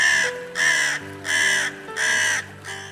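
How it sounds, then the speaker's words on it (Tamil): An animated cartoon crow caws loudly in four evenly spaced, harsh calls, each about half a second long, close and clear with no talking. "அப்போது ஒரு காகம் பறந்து வந்து ஒரு மரத்தில் உட்கார்ந்தது."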